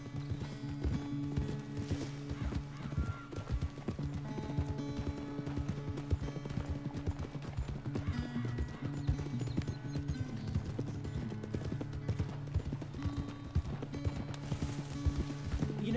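Steady rhythmic hoofbeats clip-clop continuously over a low droning background as a horse gallops at speed in the video game Red Dead Redemption 2.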